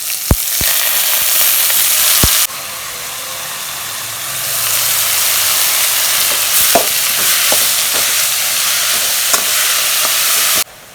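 Chopped banana flower stir-frying in a pan, a loud continuous sizzle that drops away briefly and returns, with scattered clicks and scrapes of a spatula and no talking.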